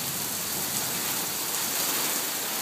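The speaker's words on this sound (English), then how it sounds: "Man, that's some good rain." Steady rain falls throughout, a dense even hiss of drops hitting surfaces, close and continuous with no voices or thunder.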